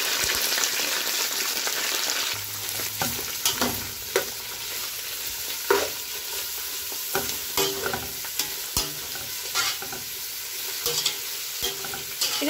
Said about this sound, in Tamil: இதில் 2 பெரிய சிவப்பு வெங்காயம் அப்படி நீளமாக வெட்டி வச்சுருக்கிறேன்,